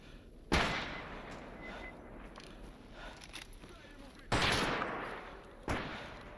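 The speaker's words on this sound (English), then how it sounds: "they're shooting my guy, I think" Gunfire in the modded shooter STALKER Anomaly, with loud single shots ringing out at intervals over a busy background of scattered distant firing and ambient noise.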